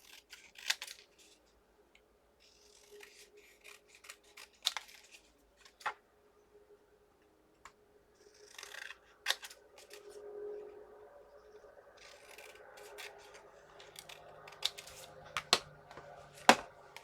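Scissors cut around a paper craft piece, making soft sporadic snips and crisp clicks separated by pauses, close and quiet, with light paper rustling between the cuts.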